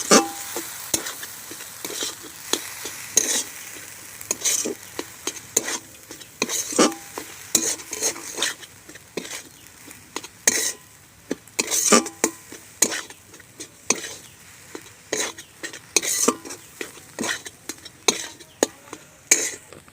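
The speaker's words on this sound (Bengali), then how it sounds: "সুজি দিয়ে দিচ্ছি 1 কাপ, দিয়ে এবার ভালো করে নেড়ে চেড়ে নেব" Semolina and potato being stirred in a hot pan, a continuous run of scraping spatula strokes against metal over a light sizzle, with frequent sharp clacks in an irregular rhythm, close and fairly loud.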